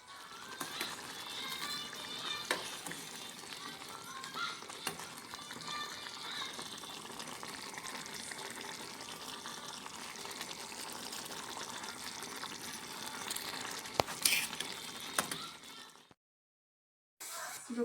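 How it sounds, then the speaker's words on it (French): Pizza sauce with coriander and a glass of water simmering in a saucepan gives a soft, steady bubbling hiss, faint and continuous, until it drops abruptly to silence near the end. "vous les mettez dans une casserole et on va mettre la sauce à cuire"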